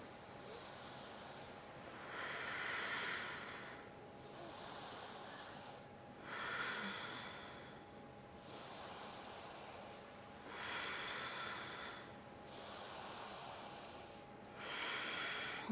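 Slow, deep breathing during a vinyasa yoga flow held in crescent pose, with three long audible breath cycles, each a rising airy rush followed by a pause, close and steady with no talking.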